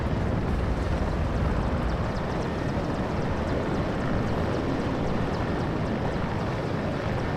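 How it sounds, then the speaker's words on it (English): In the Warno strategy video game, a helicopter gives off a constant, dense engine and rotor roar that holds at an even, loud level throughout, with no speech. "we'll go ahead and land the helicopter so it's not at risk"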